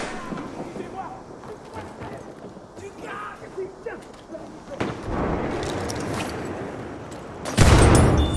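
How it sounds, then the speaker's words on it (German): A grenade blast and bursts of gunfire in Battlefield 1 team deathmatch on the Tahure map: scattered distant shots and rumbles build to a loud, close explosion near the end. "Ich werf eine Granate!"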